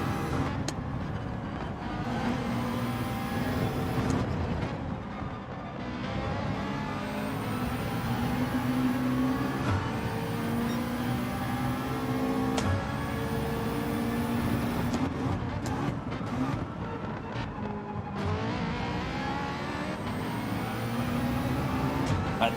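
Race car engines in Gran Turismo 7, a McLaren running in the slipstream behind a Ferrari, droning and shifting continuously with rising and falling revs, loud and steady throughout without talk.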